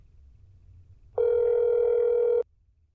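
Telephone ringback tone in a video game while placing a call, a single steady electronic beep lasting just over a second, clear and alone against a faint low background hum.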